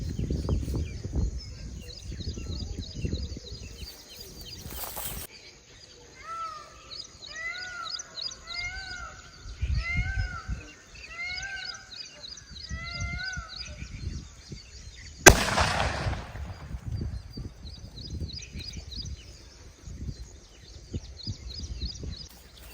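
A 5 inch gold nattu vedi firecracker goes off outdoors in two sharp, loud bangs about ten seconds apart, with birds chirping steadily in the background.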